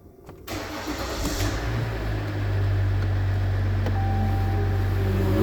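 A Ram EcoDiesel engine cranks and fires, then settles into a steady low idle, loud and close, with a soft whine joining partway through and no talk.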